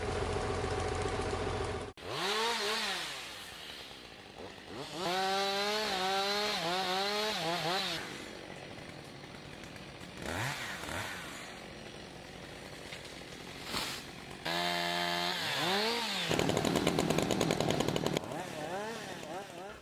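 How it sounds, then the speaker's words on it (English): Chainsaws cut trees during a large woodland thinning operation, engines whining and revving in rising and falling surges with abrupt stops between bursts, close and loud. "A big tree thinning operation is in full swing after 100 years of little attention."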